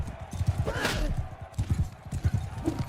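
Rapid hoofbeats from a mounted horse or donkey in the medieval combat game Bannerlord, with quick rhythmic clip-clop bursts under faint battle ambience and a brief whinny-like cry near the start.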